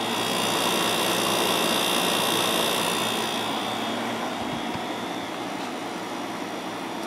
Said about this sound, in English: But the compressor sounds pretty good.